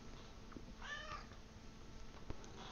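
A cat meows nearby, one short, faint mew rising out of a quiet room, with a few light taps around it and no talking.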